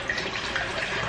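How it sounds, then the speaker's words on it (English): Bottled water poured into a container while preparing sea moss, a short steady splashing stream, close and moderately loud, with no talking. "putting some water in because I know it's gonna be at least that big"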